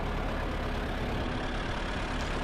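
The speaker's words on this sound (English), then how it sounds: "this tractor, from what you can hear, is not very loud" A 1920 Clet tractor engine with a short straight-pipe exhaust runs steadily, a soft, continuous low rumble heard close and unbroken, fairly quiet overall with no voices.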